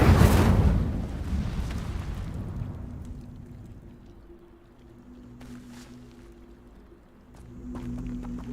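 An Incendio fire spell in Hogwarts Legacy erupts in a loud whooshing burst that decays into a low roaring rumble, followed by faint clinks and a soft swell of ambient sound.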